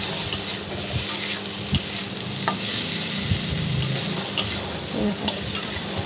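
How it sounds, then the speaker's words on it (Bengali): Rita fish curry masala is stirred and fried in a wok. A steady sizzle runs underneath sharp, intermittent scrapes and clinks of the spoon against the pan, close and clear with no talking. "ভালো করে কষিয়ে নিতে হবে, যাতে কড়াইতে ফেনা হয়, চারপাশে ফেনা উঠে যায়"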